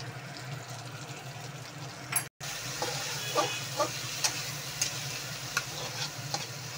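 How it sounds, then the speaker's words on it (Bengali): Fish and potato filling for stuffed pointed gourd is stirred in hot oil in a pan, giving a steady close sizzle with soft scraping stirs, broken by a brief moment of quiet. "এবার এই তেলেই মাছের আলুর পুরটা দিয়ে দিচ্ছি, দিয়ে একটুখানি নেড়ে নিতে হবে"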